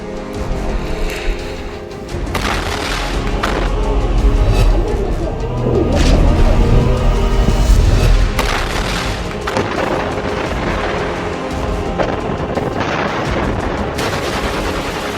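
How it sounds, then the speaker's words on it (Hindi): Close-range combat with RPG, thermobaric grenade and rocket fire: a loud, dense barrage of overlapping blasts and rapid gunfire bursts, booming and crackling continuously with heavy low-end thuds. "हमास की अल कसम ब्रिगेड के ये लड़ाके आरपीजी, थर्मोबैरिक ग्रेनेड, रॉकेट से इजरायली सेना पर बेहद पास से हमले कर रहे हैं।"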